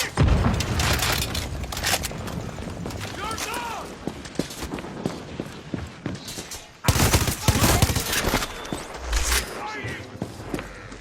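Rapid bursts of gunfire and booms from the Far Cry 6 video game crackle throughout, dense and loud, with a brief break midway before the firing resumes.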